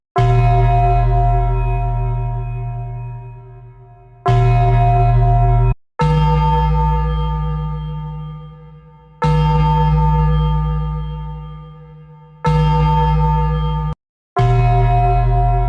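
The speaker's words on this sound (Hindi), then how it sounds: "हर तरफ से घंटी की आवाजें आना शुरू हो गईं" A large bell tolls loudly six times at uneven intervals, each deep, ringing strike hanging and slowly decaying before the next.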